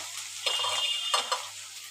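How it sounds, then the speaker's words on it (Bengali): Ginger-garlic paste fries in a pan with a moderate sizzle and a few quick stirring scrapes from a utensil, close and brief. "এইবারে আমি আদা রসুন পেস্ট দিয়ে দিচ্ছি।"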